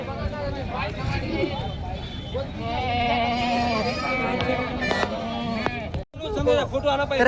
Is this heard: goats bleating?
yes